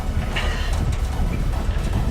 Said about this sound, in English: This is why the train is the best.